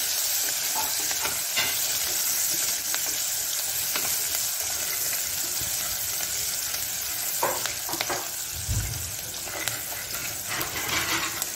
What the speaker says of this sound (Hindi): अब ये प्याज ऐड कर दे रही मैं तले से बारीक कट कर ली थी मैं तलने के लिए इसको डाल दिए भगोने में